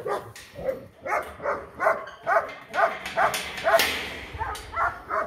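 Dogs bark repeatedly at an animal shelter in Anina, Romania, a rhythmic series of close, loud barks and yips roughly every half second, with a brief whimpering note near the end and no talk.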